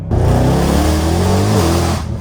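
A Mercedes C63 V8 engine revs hard and close, a loud sustained roar with a rising and falling pitch, heard alone without talk.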